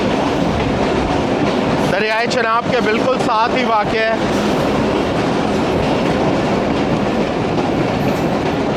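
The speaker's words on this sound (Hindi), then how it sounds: "हल्की हल्की धुंध में दौड़ता हुआ ये लोकोमोटिव" A 228DN shuttle train locomotive runs near Chenab West Bank station, giving a steady loud rumble and clatter throughout, with a voice speaking over it for a couple of seconds near the start.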